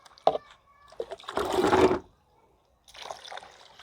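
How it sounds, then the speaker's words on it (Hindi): Water pours onto cocopeat from a soaked brick in one close splashing burst, with softer trickles and handling noises before and after. "अब इसमें फिर से मैं पानी डाल देता हूँ।"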